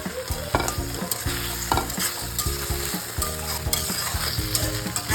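Paneer chilli sauces being stirred vigorously in a pan over high gas, loud continuous sizzling and frying with repeated scraping stirs of the spatula, close and without talk.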